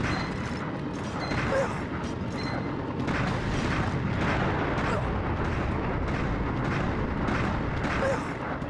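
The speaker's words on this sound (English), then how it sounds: "They are shooting that, bro. I am taking enemy fire." Enemy gunfire in Mercenaries: Playground of Destruction pounds as repeated heavy bursts and thuds over a dense, noisy battle bed, with talk mixed in.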